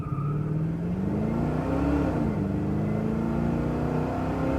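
A 1968 Chevrolet C10 restomod truck drives along with a steady, loud engine drone, its pitch rising and easing as it accelerates, heard from inside with no talking.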